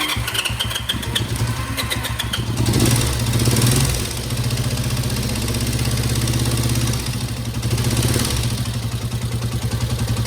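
A Honda CB350 or CL350 twin motorcycle engine idles close by with a lumpy, pulsing beat, running on one cylinder, briefly revving up twice before dropping back to a rough idle.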